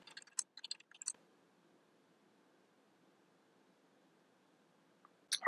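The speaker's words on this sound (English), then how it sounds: "So I typed Ubuntu, and now I'll type my new password." Soft clicking keystrokes on a computer keyboard entering a password at an Ubuntu server login on a Raspberry Pi 4, a quick run of taps, then hushed background noise and a final keypress.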